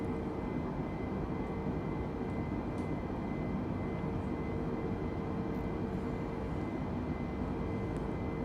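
An aircraft flying in a video game produces a steady, unbroken engine drone with a broad rushing roar. It stays at a constant level throughout, without pauses.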